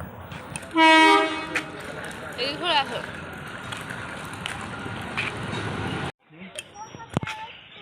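A train horn blasts loud and close at a station platform, one sustained tonal honk near the start, followed by steady rumbling station and rail noise that cuts off abruptly toward the end.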